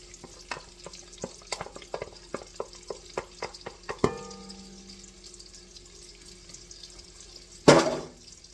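Carrots are sautéed in melted butter in a pan, with a string of evenly spaced spoon taps, then a sharp clank and a low sizzle, and finally a brief loud rush near the end.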